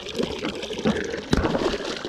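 A water-filled condom bursts with a sudden sharp pop and splash midway through, amid ongoing running and trickling water.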